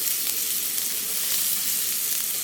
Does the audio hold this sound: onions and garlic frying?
yes